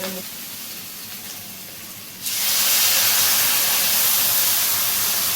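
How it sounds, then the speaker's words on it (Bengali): Water is poured into a bean (sheem) curry cooking in a pan with mustard and sesame paste, a sudden loud rushing hiss and sizzle that starts partway through and holds steady. "এবার আমি জল দিয়ে দেবো, পরিমাণ মতো জল দিয়ে দেবো।"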